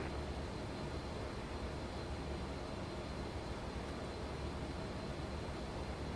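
An Airbus A350-900 airliner in Microsoft Flight Simulator 2024 takes off, a steady loud engine roar and rumble that holds constant throughout.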